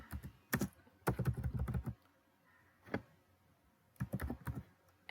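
Python code typed on a computer keyboard, close and crisp, with short bursts of clattering keystrokes broken by pauses and a single isolated key press between them.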